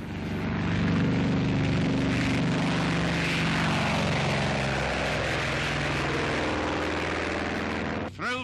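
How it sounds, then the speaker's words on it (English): A Grumman Hellcat WW2 Navy fighter plane flies with a loud, sustained propeller-engine roar under newsreel narration, dropping abruptly near the end. "The Grumman Hellcat."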